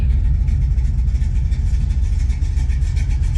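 A 1969 Plymouth Road Runner drag car idles with a loud, steady, deep rumble. Its dual cooling fans run throughout, and no one speaks.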